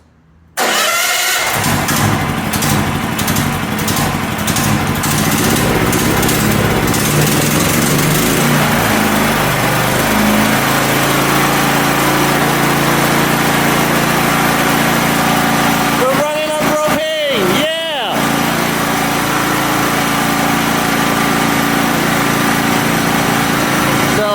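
Champion 100520 generator engine running steadily on propane, loud and constant throughout after starting up, with a brief burst of clattering noise partway through.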